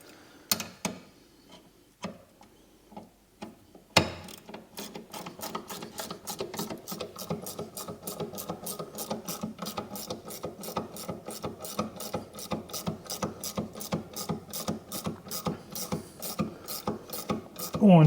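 A 12mm ratchet winding brake caliper bolts into an MG ZS rear brake, a few isolated clicks at first, then a long run of rapid, even ratcheting clicks, close and clear with no talking.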